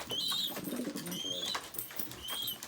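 Birds in a backyard coop at night, thought to be Syrian game birds, give repeated high chirps and calls with rustling and scuffling close by.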